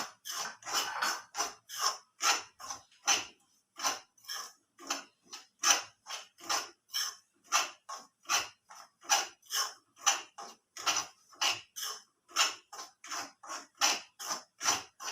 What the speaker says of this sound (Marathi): कढई तापली आपली, त्यामध्ये रवा घालते मी